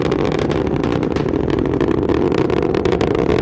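Parker probe rocket launch: a loud, steady roar of engines running continuously at full thrust, with dense broadband rumble and crackle throughout and no talk.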